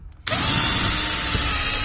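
A power drill runs loudly and continuously after a quiet start, boring into material during cosmetic renovation of an old building.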